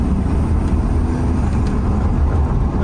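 A previously abandoned Pimp My Ride minivan engine runs with a heavy, steady low rumble, loud and close without distinct rev swells.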